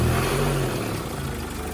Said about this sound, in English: It is idling pretty decent